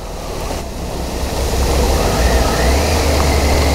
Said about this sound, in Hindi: क्या बवाल वाला पानी आया हुआ